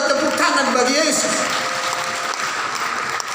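A church congregation claps together in a sustained wash of applause that fills the hall, loud and continuous, with a voice speaking over it.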